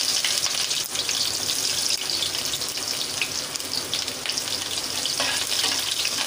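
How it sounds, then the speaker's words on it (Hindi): Cumin, cloves and finely chopped onion hit hot oil for a spinach kofta curry, giving a loud, dense, continuous hiss and crackle up close, steady for several seconds with no talking. "अब तेल में ये जीरा और लौंग डाल देंगे और इसमें साथ में ये बारीक कटी हुई प्याज भी डल जाएगी।"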